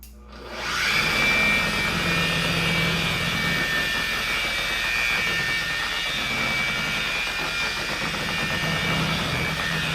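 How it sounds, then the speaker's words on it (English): A car paint polisher from a DIY Detail kit spins up at speed 1 to spread polish, a loud steady whirring drone that rises quickly and holds constant throughout, with no talking. "what I do on this polisher, you go speed 1 to just spread the polish"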